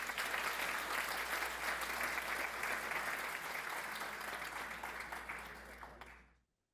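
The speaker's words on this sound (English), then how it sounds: "Let's give them one more round of applause." Sustained applause from a conference audience honouring three award recipients, dense and steady for about six seconds before stopping abruptly.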